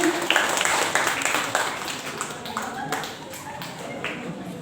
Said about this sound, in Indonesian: Tepuk tangan dulu untuk kelas 10B